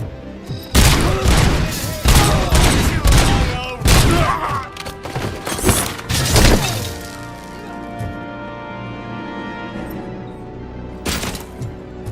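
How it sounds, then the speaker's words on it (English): Heavy gunfire and violent impacts from the RoboCop video game, with loud bursts, crashes and thuds packed densely over the first seven seconds, then a quieter tail with a sustained tone and one last burst near the end. "Who's shooting me now?"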